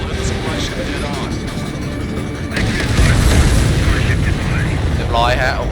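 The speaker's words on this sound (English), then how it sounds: "Missile hit the supply ship dead on." A missile explodes against a supply ship in the flight combat video game Ace Combat 7, a loud, deep, rumbling boom swelling over continuous engine roar, with voice chatter mixed in.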